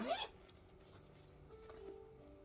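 A quick zip on a vintage leather handbag, a short bright rasp at the start followed by quiet rustling and faint room noise.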